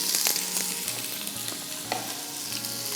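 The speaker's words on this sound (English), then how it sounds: "That's a nice sizzling." Onions frying in olive oil in a pot, a steady loud sizzle with crackling pops and occasional scraping or stirring clatter, no voices.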